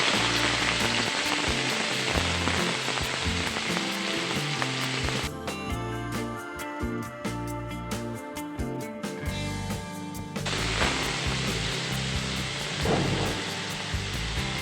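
Onion sizzles in two large spoonfuls of hot oil for gawar bhaji, a dense, even hiss running throughout with a slightly altered, crackly stretch midway, close and uninterrupted.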